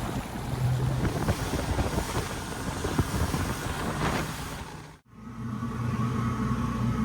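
Twin Volvo engines of a 70-foot motor yacht rumble steadily, partly buried under heavy wind buffeting and water noise, with a brief dropout near the end before the hum resumes.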